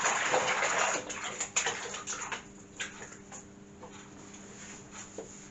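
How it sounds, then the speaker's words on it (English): Tap water running into a kitchen sink while hands are washed, a rushing splash that is loudest at first and then breaks into intermittent splashes and drips as it tapers off, with no talking. "I'm just going to wash my hands."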